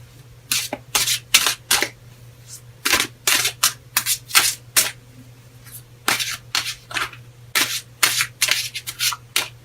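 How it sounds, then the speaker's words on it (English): Crisp, rapid bursts of papery riffling repeat in uneven clusters, close and fairly loud, as a Rock and Roll Tarot deck is shuffled, with a steady low hum beneath. "let's get shuffling here"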